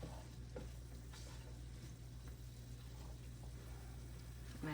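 Zucchini boat filling frying in a pan and being stirred, with a faint steady sizzle under soft scraping and stirring sounds over a low background hum.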